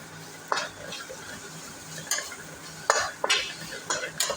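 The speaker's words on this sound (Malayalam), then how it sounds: "ഇത് ചേർത്ത് കൊടുത്ത് അതിൻ്റെ പച്ചമണം മാറുന്നവരെ ഒന്ന് വഴറ്റിയെടുക്കാം" Chilli powder, turmeric and garam masala are sautéed in a pan for tomato curry, with a soft sizzle beneath repeated scraping strokes of a spoon against the metal, close and intermittent.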